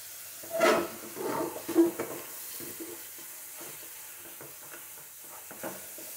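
Spice paste fries in a pan while being stirred: a few sharp scrapes and clatters early on, then a soft, low sizzle that continues quietly on its own.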